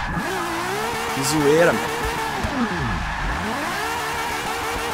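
Ferrari FXX K spinning smoky donuts in Forza Motorsport 6, a steady engine roar that swoops up and down in pitch with tire squeal, while someone talks over it.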